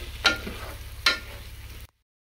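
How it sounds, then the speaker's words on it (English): Carrots and potatoes frying with spices in a pan, a soft continuous sizzle broken by two brief louder stirring scrapes, close by and without speech. "So just fry them with the rest of the spices for 5 minutes or so."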